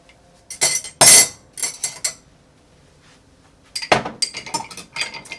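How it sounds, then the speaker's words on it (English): Ice clinking and rattling against a cocktail mixing glass while an Old Pal of rye whiskey, Campari and dry vermouth is prepared: a loud bright clatter, then a few lighter taps, a pause, and another burst of rapid clinks. "We get some ice in our mixing glass."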